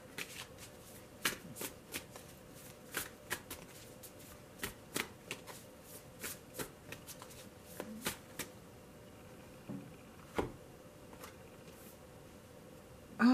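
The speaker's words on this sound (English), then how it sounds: "so I'm going to pull the cards" Tarot cards shuffled close up in a quiet room, a steady run of crisp riffling snaps and soft card taps in irregular bursts, with no voices.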